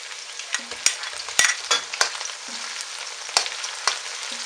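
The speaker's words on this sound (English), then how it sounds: "Give it a stir." Pinakbet with fish balls being stirred in a pan, bright continuous sizzling punctuated by several distinct spatula knocks and scrapes at uneven intervals, close up with no talking.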